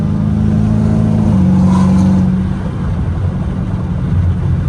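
A straight-piped Hellcat Redeye roars loud and close while accelerating on a highway, its deep, steady exhaust drone shifting pitch partway through before settling into a lower, continuous rumble with road noise.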